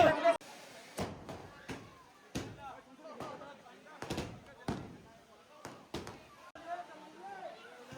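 Sharp bangs of fireworks at a Muslim wedding procession in West Uttar Pradesh go off one after another at irregular intervals, with voices and crowd noise murmuring between the blasts.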